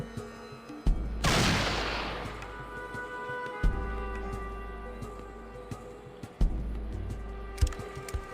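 Gunfire in Fallout 1 gameplay: a few sharp shots crack out at intervals, one followed by a loud noisy blast that decays slowly, over low ambient hum.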